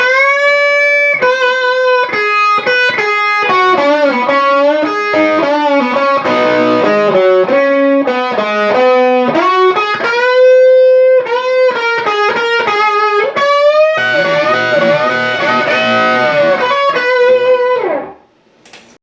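An overdriven electric guitar plays a melodic lead with bends and quick runs, sustained and loud, ringing out before fading at the end.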